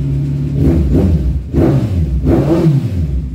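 Kawasaki Z1000R motorcycle engine revved close up in three strong throttle blips, each rising and falling back to a rumbling idle, with no talking.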